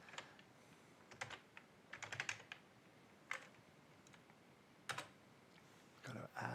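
Keys clack on a computer keyboard or laptop in short irregular bursts of quick taps with pauses between, faint and close in a quiet room.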